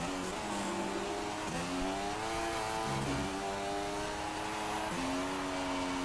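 Formula 1 race car engine in F1 2016 at the Spanish circuit, a steady high-pitched whine rising and dropping through gear shifts, loud and close, with no talk.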